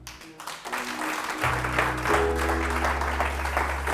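A church congregation claps and cheers, applause swelling steadily over a sustained low musical drone, with voices mixed into the crowd noise.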